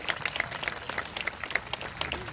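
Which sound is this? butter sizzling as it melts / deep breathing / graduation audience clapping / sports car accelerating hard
graduation audience clapping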